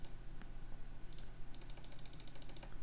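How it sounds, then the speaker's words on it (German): Computer mouse clicks during a Minecraft session, a quick run of small sharp clicks that gathers toward the end over a low steady hum, faint and close. "So, ich hoffe, man hört die Mausklicks nicht."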